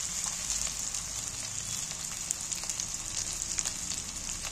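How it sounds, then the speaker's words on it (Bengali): Onions and fat fry in a pan with garlic, giving a continuous close sizzle with fine crackling pops and no talking. "পেঁয়াজগুলো আমার পুরো পেঁয়াজ আর চর্বি পুরো ভাজা ভাজা হয়ে গেছে"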